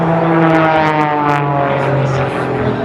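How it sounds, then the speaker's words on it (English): A US Marine Corps Harrier jet passes at the Thunder Over Louisville 2013 airshow, giving a loud, steady engine drone with layered humming tones that hold for the whole stretch. "in preparation for a maneuver in dedication to the United States Marine Corps 888 Harrier, Billy is repositioning for the Harrier."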